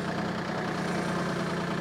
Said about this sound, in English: I grabbed the small tractor because it already has a bucket on it